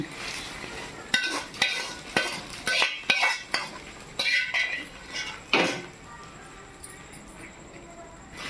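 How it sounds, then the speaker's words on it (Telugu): A spoon stirring hot fried tempering into rice for lemon rice, producing repeated scraping and clinking knocks against the pan in an irregular rhythm, close and fairly loud, with a lull near the end. "వేగిన తర్వాత మనం తిరగమాత అన్నంలో కలుపుకోవాలి"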